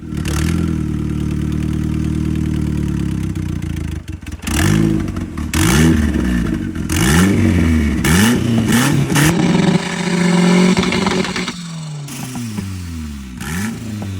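A turbocharged Honda Chevy engine with a new turbo manifold, revved repeatedly and building boost: loud, close, rising and falling rasps in a series of quick blips, with a brief dip before the revving picks up again, and no talk.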